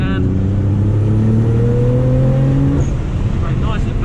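Nissan GT-R engine accelerating hard on a drift circuit after a chicane, heard onboard as a loud rising drone that climbs in pitch, with an instructor talking over it.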